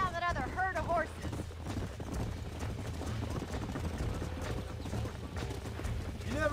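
Horses in Red Dead Redemption 2 clop and gallop through a game landscape, a herd's hooves drumming steadily under music, with a short whinny near the start and voices speaking.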